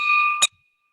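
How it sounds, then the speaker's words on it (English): A bell rung by hand at a Rotary fundraising event, one bright, ringing strike that sustains briefly, then stops short with a quick damped clang before silence. "Ring the bell for Barry Nelson."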